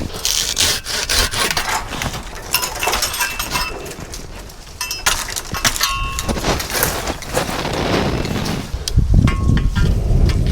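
Hand saw cutting tree branches in a garden, with a steady back-and-forth rasp of the blade through wood running throughout and a heavier crunching stretch near the end, close and fairly loud.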